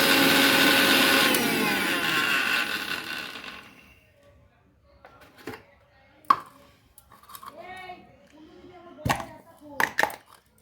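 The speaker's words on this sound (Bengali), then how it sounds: "মুড়িগুলোকে আমি মিক্সচারে ঢেলে দিচ্ছি পাউডার বানানোর জন্য।" Puffed rice ground into powder in an electric mixer grinder, a loud whirring roar that cuts out after about four seconds, followed by quiet handling clatter and a voice speaking.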